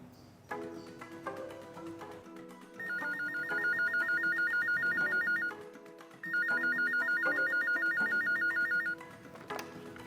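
A mobile phone rings in two long bursts of a rapid electronic trill with a short pause between them, loud and near, over a soft background of music.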